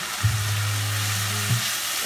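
A Sichuan-style beef stir fry with coconut aminos, rice vinegar and fish sauce sizzles steadily in a pan, a bright close hiss over a low droning hum, with two soft bumps along the way.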